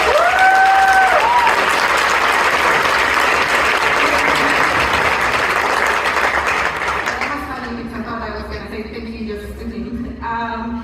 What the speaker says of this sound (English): Big round of applause to Reyna Chica, ladies and gentlemen